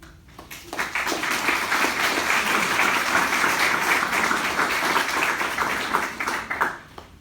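A crowd breaks into sustained applause, dense steady clapping lasting several seconds before tapering off at the end.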